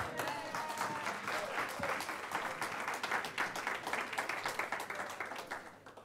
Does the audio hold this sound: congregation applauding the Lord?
yes